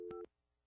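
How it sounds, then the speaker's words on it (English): Telephone keypad tones from a home landline being dialed to place a call, a couple of short, loud DTMF beeps in quick succession, then a quiet line. "So we're going to call him now."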